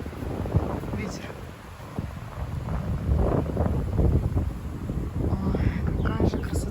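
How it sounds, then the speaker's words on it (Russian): Wind blowing outdoors in a countryside village among birch trees, heard as a steady low buffeting rumble across the microphone for the whole stretch, with quiet voices and occasional faint sounds over it. "Ветер."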